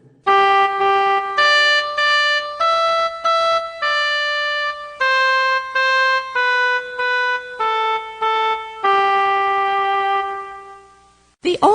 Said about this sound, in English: One of the children is called an oboe.